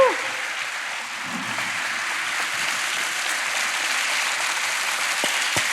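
Steady, full audience applause at a live talk event, a dense even wash of clapping held throughout, with a voice briefly audible near the start.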